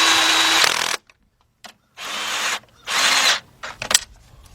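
Power tool tightening bolts on a bracket during a Kia/Hyundai V6 timing belt and water pump job, in three short bursts of whirring with ratcheting clicks and a pause between each, close up.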